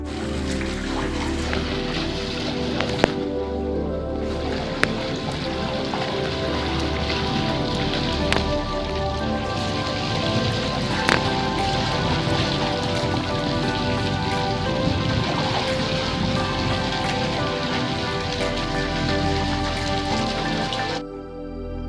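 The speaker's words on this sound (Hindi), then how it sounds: "ये वीडियो आपने देखी दोस्तों, जिसमें एक बारिश बरस रही है और एक बच्चा उस बारिश में स्नान कर रहा है" Steady, dense rain pours down without pause in the open while a child bathes in it, a loud, even hiss of drops on surfaces with no voices heard.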